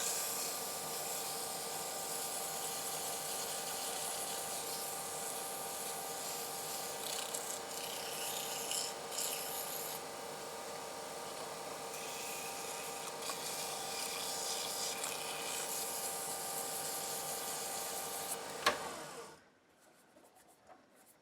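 Steady, continuous sanding of a cherry pit and resin bottle stopper blank with 400 grit abrasive, a dense even rasping held close for about eighteen seconds before stopping abruptly into near silence.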